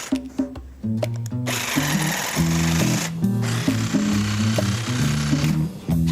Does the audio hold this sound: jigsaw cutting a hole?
yes